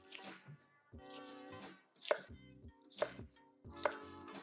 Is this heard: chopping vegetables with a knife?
yes